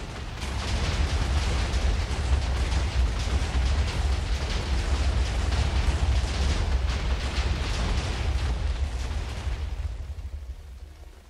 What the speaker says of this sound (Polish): O, chyba nieźle wybuchło, powiem wam.